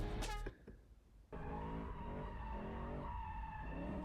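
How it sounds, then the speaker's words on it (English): A BMW E90 drifts, opening with a brief high tire squeal and then settling into a continuous engine roar with skidding tires. "Drifting the E90."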